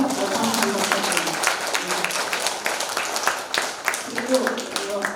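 Audience at a poet's lecture applauding in congratulation of a chairman, a dense, steady wash of clapping from many hands with some crowd murmur throughout.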